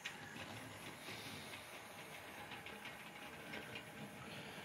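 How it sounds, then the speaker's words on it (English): A Hornby model train set runs around its track, giving a steady, quiet rolling hiss and faint mechanical rattle that continues without pause at low level, with no talk over it. "Let's bring this train round again now."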